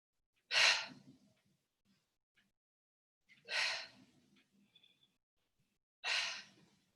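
Three strong exhaled breaths during a yoga session, each a loud breathy whoosh spaced a few seconds apart, with quiet pauses between them.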